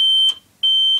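Indicator beeper fitted to a Triumph Bonneville motorcycle, sounding two steady, shrill electronic beeps of about a third of a second each, separated by a short pause, close and clear with no talking.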